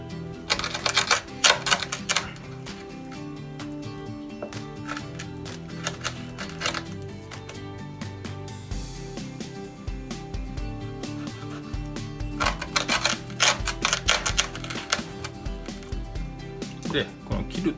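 A kitchen knife saws through the scaled skin of a tilefish (amadai), giving crisp, rapid crackling and scraping clicks in irregular bursts, close up and fairly loud, with no talking.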